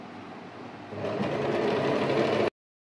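An Usha Janome Excell sewing machine runs a zigzag stitch along a saree fall, a steady close mechanical whir that picks up speed and grows louder after the first second, then cuts off abruptly.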